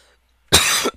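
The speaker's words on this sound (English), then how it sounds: "Ugh, cough." After a brief silence, one sharp, close cough bursts out loudly and stops abruptly, with nothing else around it.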